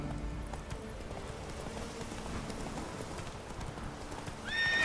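Horse hooves clip-clop steadily in The Witcher 3 as the mount gallops, a continuous mid-level rhythm with a brief whinny-like swell near the end; no talk over it.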